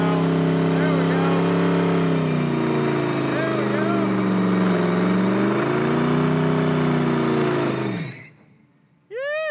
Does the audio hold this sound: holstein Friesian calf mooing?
no